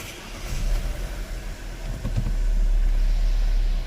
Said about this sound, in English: let's see if we can start the car without any problems